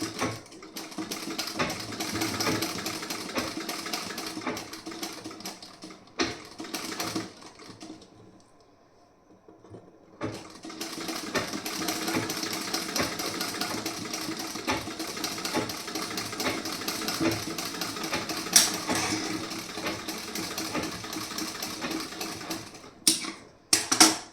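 A sewing machine stitches a piece-style blouse in long bursts of rapid, even clatter, pausing briefly near the middle and again near the end, close and alone.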